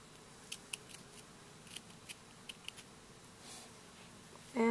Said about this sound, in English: Now I'm just going to cut these ends off.